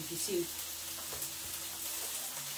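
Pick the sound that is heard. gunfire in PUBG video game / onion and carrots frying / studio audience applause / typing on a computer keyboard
onion and carrots frying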